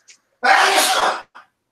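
A single loud human sneeze bursts out and holds for nearly a second, with brief softer sounds just before and after it.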